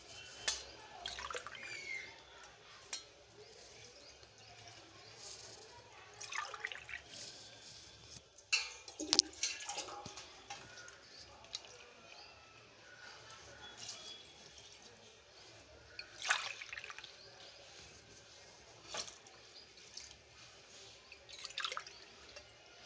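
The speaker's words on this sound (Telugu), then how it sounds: "5 గ్లాసులు వాటర్ వేసుకుందాం" Water from glasses is poured over rice in a rice cooker for chicken biryani. A few faint, scattered splashes and trickles break a quiet background.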